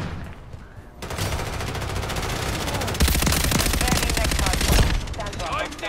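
Rapid automatic gunfire in the multiplayer shooter Call of Duty MW3 on the Rust map, sustained bursts growing louder and denser toward the middle, with game voices faintly underneath.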